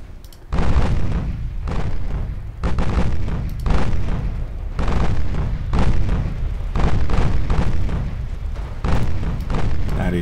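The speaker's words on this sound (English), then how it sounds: "Is a lot of sustained gunfire, even a torpedo hit." Sustained naval gunfire in the warship battle game Ultimate Admiral Dreadnoughts, with a rapid series of heavy, booming salvos rolling one into the next and loud throughout.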